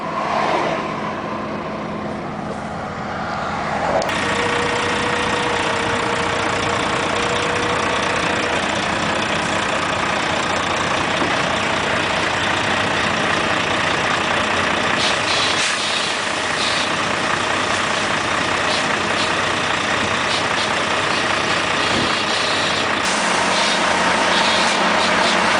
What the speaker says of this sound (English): you'll see it lifting the trailer right up in the air